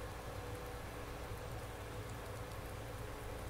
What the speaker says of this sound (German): Obwohl der Regen nicht schlecht ist,